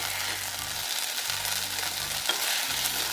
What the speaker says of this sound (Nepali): त्यसपछि मैले हाले एउटा मसिनो गरी काटेको टमाटर। एकैछिन फ्राई गरिसकेपछि यो पाकिसकेको छ।